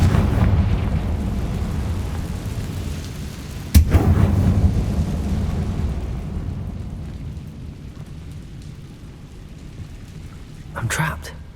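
Fiery Confringo spell blast from the Hogwarts Legacy video game, a sudden sharp explosive burst over a constant rumbling rain-like background, followed by fading crackle and a smaller flare near the end.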